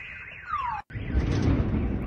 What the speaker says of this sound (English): That sounds like a house alarm or something.